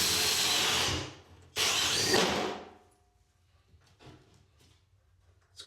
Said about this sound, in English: All I've got to do is get the plasterboard out of the drill bit.